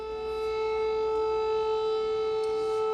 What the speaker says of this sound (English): the air raid sirens are going off once again